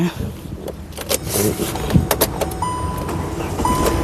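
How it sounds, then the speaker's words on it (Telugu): A 2017 Hyundai Creta engine turning over and catching on a single crank, a mix of mechanical clatter and short tonal beeps up close, with faint voices in the background. "సింగిల్ సెల్ఫ్లో కార్ స్టార్ట్ అవుతుంది"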